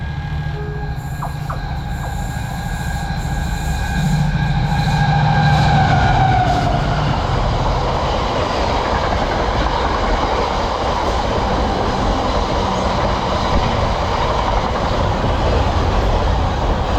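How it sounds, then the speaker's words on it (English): A train rolls through Ilkeston station, its rumble building loud and close with a high tonal whine and squeal at first, then settling into a broad steady roar of wheels and carriages passing. "This train's come from Wakefield going"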